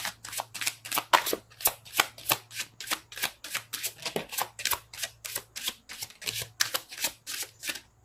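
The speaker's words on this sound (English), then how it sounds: "Shuffle." Rapid, rhythmic riffling of tarot cards, many crisp bursts in steady succession, close and fairly loud with no talking.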